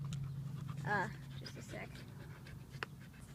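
A Catahoula leopard dog pants softly and lets out a brief whimper, close by and faint, while a person speaks a few words.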